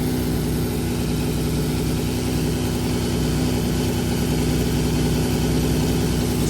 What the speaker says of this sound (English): I got the bike running on choke.